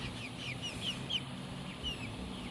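Soft, high chirping clucks from chicks repeat several times, close by, over a low steady background hum.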